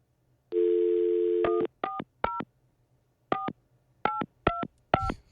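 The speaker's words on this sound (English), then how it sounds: "Calling him like 10 times." Telephone dialing a call: a steady dial tone for about a second, then seven short touch-tone beeps in an uneven rhythm, clear and close, with no talking.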